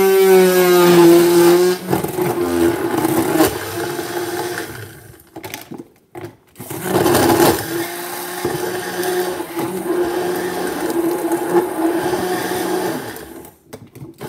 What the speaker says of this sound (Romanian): Luăm blenderul și mixăm.